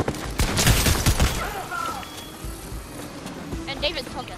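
Rapid bursts of gunfire in a multiplayer shooter video game crackle loud and near at first, then thin into sparser distant shots while players talk over them.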